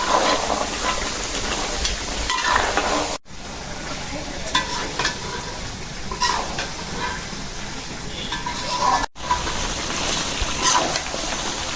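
Duck meat frying in a pan with ground spice paste, a loud, close, continuous sizzle with scraping stirs, two brief cuts in the sound.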